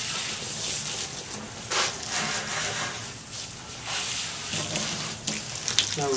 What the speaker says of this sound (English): Water hose is working.